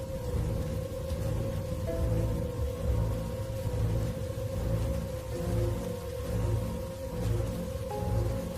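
Steady rain falling in a horror cartoon, a dense continuous hiss over a low rumbling bed with a sustained droning tone, even in loudness throughout and without voices.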